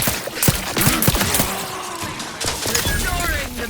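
Rapid bursts of gunfire in the video game The Outer Worlds 2 crackle in quick succession, mixed with impacts and game voices.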